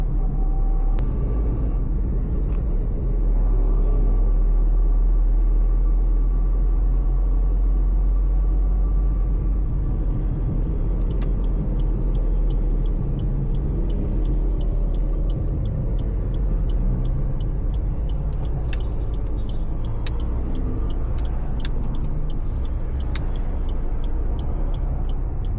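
Suzuki S-Presso small hatchback with AGS automated gearbox driving along a road and swinging through a U-turn; steady low engine and road rumble from inside the cabin, continuous and fairly loud with occasional faint clicks.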